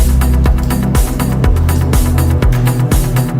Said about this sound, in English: And mostly this legendary pad, for me at least, is the Anjuna pad.